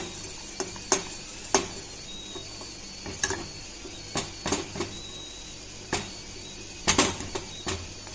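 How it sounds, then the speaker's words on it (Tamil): Jaggery melting in a pan, a faint low simmer broken by sharp intermittent scraping and clinking strokes of a utensil against the pan, spaced irregularly, with no talking. "நான் வந்து 1 கப் வெல்லம் ஆட் பண்ணிவிட்டு அதை மெல்ட் பண்ணிட்டுருக்கேன்"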